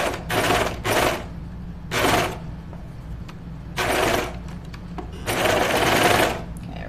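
A serger stitching knit fabric and trimming the edge with its knife runs in loud, close bursts of rapid whirring, starting and stopping several times with brief pauses between runs.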